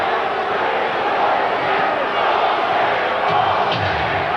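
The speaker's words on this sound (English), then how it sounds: "Many in the crowd here disagree with the call." A basketball arena crowd at a 1990 playoff game between the Suns and Blazers roars steadily in disapproval after a foul call, a loud sustained wash of many voices.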